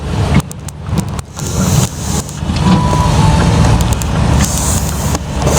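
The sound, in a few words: large semi-trailer trucks passing on city road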